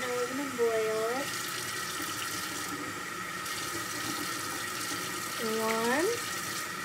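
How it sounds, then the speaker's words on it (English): Warm water runs from a tap into a container throughout, a steady hiss under occasional speech. "So I'm gonna put some warm water."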